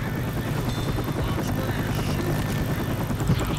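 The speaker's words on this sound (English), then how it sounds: "Quick! News Chopper 5 is gonna help us!" A news helicopter in Left 4 Dead 2 arrives with a steady, loud rotor drone that fills the clip, while background voices and game noise sit underneath.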